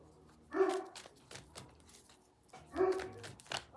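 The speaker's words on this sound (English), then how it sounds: "Oh Lord, he start barking" A dog barks indoors, two bursts of sharp barks separated by quieter snuffling and small yips, moderately close and fairly faint overall.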